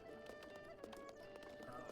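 Horses at a stable in Zelda: Breath of the Wild give rhythmic clip-clop hoofbeats over a faint sustained musical tone, quiet and brief, with a voice faintly present.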